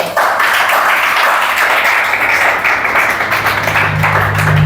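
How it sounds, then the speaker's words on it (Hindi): Students in a Chhattisgarh police exam coaching class clap loudly on cue, a dense, sustained burst of many hands close by, with a low electrical hum running under it. "जोरदार ताली बजाओ जी"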